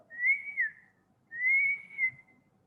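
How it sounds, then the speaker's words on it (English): A person whistles two sustained, gently wavering tones separated by a brief pause, soft and close in a quiet room during a facial nerve test. "Next, whistle."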